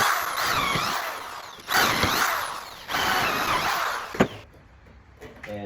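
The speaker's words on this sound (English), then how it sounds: "So now you got your drill." A power drill bores holes into a wooden log while a bracket is fitted to make a wood duck nest box, with several whining bursts of drilling at close range, separated by short pauses.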